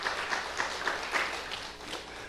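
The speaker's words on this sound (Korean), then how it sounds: "하나님께 영광하고 박수 드리겠습니다" Brief applause from a church congregation on Easter Sunday, a moderate, fairly distant wash of clapping with a few sharper accents, steady across the short stretch.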